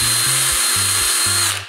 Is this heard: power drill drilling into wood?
yes